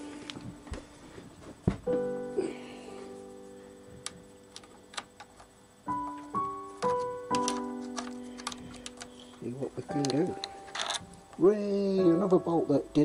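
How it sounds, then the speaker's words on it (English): A ratchet wrench clicks rapidly in close bursts while undoing bolts on a Yamaha XJ900S motorcycle, with someone talking over and between the ratcheting. "Where's my ratchet? Okay, got my ratchet."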